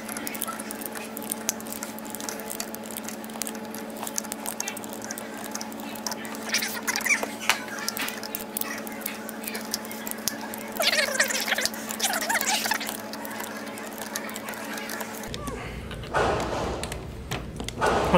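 Pistol rounds being pressed one by one into 16-round magazines that have a round-count window, giving a steady patter of small metallic clicks and taps over a constant background hum, fairly close.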